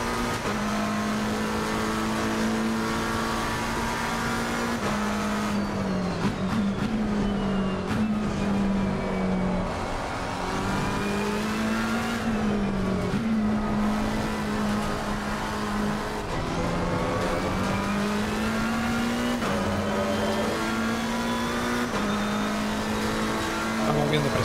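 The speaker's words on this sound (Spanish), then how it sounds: "Los coches ya circulan por la línea de pista." McLaren 720S GT3 race cars lapping Silverstone in a racing video game, a steady droning engine note rising and falling with gear changes, continuous and loud throughout, with faint tire noise.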